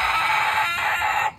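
A rooster crows once nearby, a loud, sustained cock-a-doodle-doo that trails off at the end with no talk over it.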